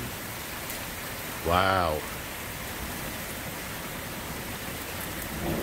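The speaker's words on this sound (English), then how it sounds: "Just torrential rains and lightning and" Torrential rain pours down during a severe thunderstorm in Prosper, Texas, a dense, steady roar throughout, with a brief spoken exclamation partway through.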